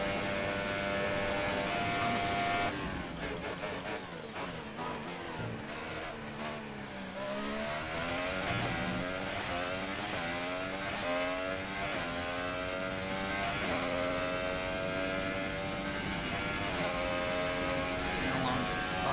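Simulated F1 car engine from the F1 2018 racing game at the Italian Grand Prix, screaming high and steady with rising revs broken by quick upshifts into higher gears, loud and continuous with no talk.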